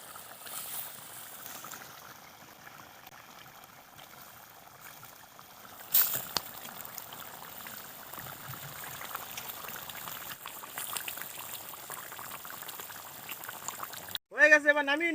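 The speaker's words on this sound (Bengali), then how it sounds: "আমরা জল দিয়ে ফোটানোর জন্য রেখে দেবো।" Tilapia fish and maan kochu (taro) curry boils in water in a village kitchen: a low, steady bubbling simmer that ends in a brief clatter, with voices in the background.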